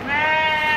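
A large goat at a busy livestock market in Deonar, Mumbai, gives a single sustained nasal bleat lasting under a second. It is close and fairly loud, with market bustle behind it.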